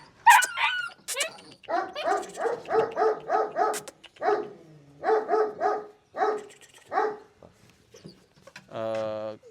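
Puppies about 40 days old yapping in quick runs of high, squeaky barks with a few whimpers, close by, with brief pauses between bursts.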